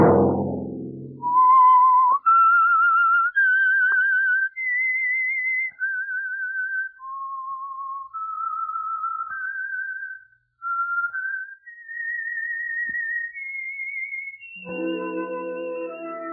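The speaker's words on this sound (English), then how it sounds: "Let that whistle be your signal for the Signal Oil program, The Whistler." Theme of The Whistler radio program, a clear solo whistled melody of sustained notes that step up and down for about thirteen seconds, opening after a brief orchestral chord and ending as the orchestra comes back in.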